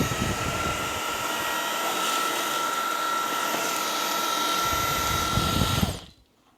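A Samsung Jet 65 stick vacuum runs on its medium setting with the jet brush, a loud, steady motor whine with a high tonal note, picking up Weet-Bix crumbs, then cutting off abruptly near the end.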